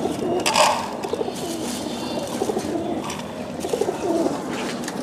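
Caged desi giribaz pigeons coo continuously in soft rolling phrases, with several birds overlapping at close range over a faint background hiss.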